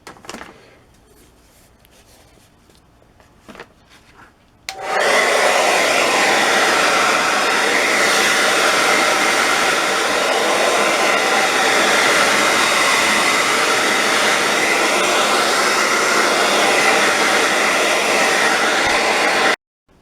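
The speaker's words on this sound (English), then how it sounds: "And so now for heat, I'm going to use electric hair dryer" An electric hair dryer set to hot on high blows a loud, steady roar as a heat source on a wooden table; it starts abruptly after a few quiet seconds of faint handling and runs continuously to the end.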